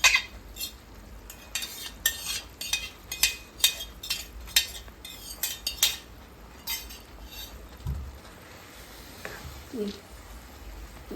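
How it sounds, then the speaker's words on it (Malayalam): A spoon stirs thickening jaggery syrup in a pan. Quick, rhythmic scraping and clinking strokes come close and loud at first, then ease into quieter, sparser stirring with a faint sizzle underneath. "ഇതിപ്പോൾ നല്ലപോലെ ഇളക്കി കൊടുക്കണം"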